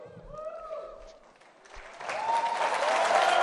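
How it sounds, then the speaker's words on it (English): An audience at the CPAC conference breaks into applause, starting under a speaker's amplified voice and swelling into loud, sustained clapping from a large crowd. "I'm really confused about why so many people are clapping for this"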